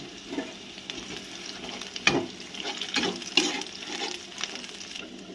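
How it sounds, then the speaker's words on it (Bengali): Chopped onion, green chilli and fish roe frying in a pan, a soft continuous sizzle with irregular stirring scrapes and a few sharper knocks, close by and without speech. "পেঁয়াজটা ভাজা হচ্ছে, আমি তার সাথে মাছের ডিমটাও দিয়ে দিলাম, কারণ এটাকে একটু ভেজে নিতে হবে"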